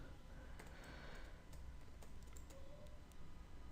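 Faint, quick clicks of keys on a computer keyboard as code is typed, scattered taps in a hushed room with a low background hiss.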